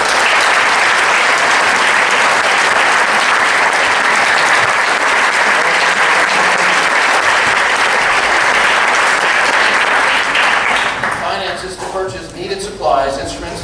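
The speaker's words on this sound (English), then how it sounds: "Let's have a round of applause for the Lafayette High School's administrative and guidance team." Loud, dense applause fills a school auditorium for the Lafayette High School administrative and guidance team at a wind ensemble concert, steady and sustained before it thins out near the end as a voice starts speaking.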